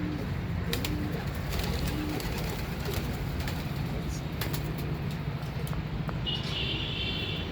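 Pigeons at a fancier's loft in Pandharpur coo softly and keep going under a constant outdoor hum. Distant traffic sits in the background and faint voices are audible.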